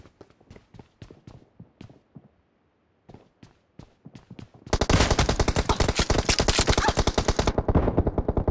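Video game gunfire: scattered single shots and short bursts at first, then a loud, fast, sustained automatic burst lasting several seconds before easing off.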